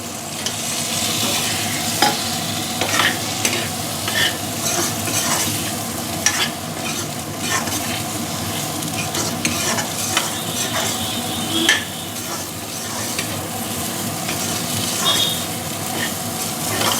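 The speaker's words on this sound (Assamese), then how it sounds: "এতিয়া মোৰ এইখিনি ভালদৰে ভাজা হৈ গৈছে" Boiled potatoes frying and being stirred in a pan for fish curry, a dense steady sizzle punctuated by frequent scraping and tapping strokes of a spatula, loud and close with no speech.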